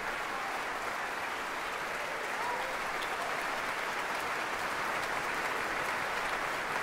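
Steady, dense applause fills the Concertgebouw in Amsterdam after the Netherlands Philharmonic Orchestra plays Tchaikovsky's Symphony No. 5, a broad wash of clapping from a large hall audience.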